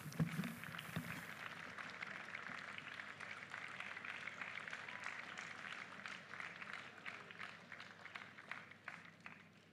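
An audience rising to its feet applauds at a university inaugural lecture in a large hall, a dense steady wash of clapping that carries on for the full length, with voices murmuring underneath.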